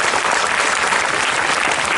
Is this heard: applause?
yes